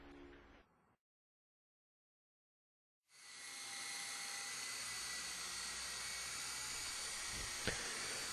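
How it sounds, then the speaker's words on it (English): A short burst of noise cuts to silence, then a high whining motor and rotor whir of a Twister Hawk model helicopter starts up and holds steady, loud and close. "ease the throttle stick forward until the main rotors start to rotate"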